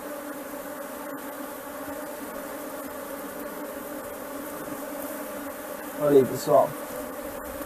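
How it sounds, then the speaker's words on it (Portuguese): Honey bees crowd a brood frame pulled from a hive, their dense steady buzz humming close throughout. A brief remark in Portuguese and a couple of short bumps break in near the end. "tá um quadro praticamente todo cheio de abelhas aí para desenvolver"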